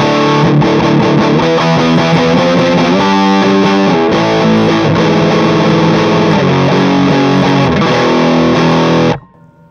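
Heavily overdriven electric guitar chords through a Mesa/Boogie JP2C+ amp with the gain boost pulled ring out loud and thick with gain, playing steadily before cutting off abruptly near the end.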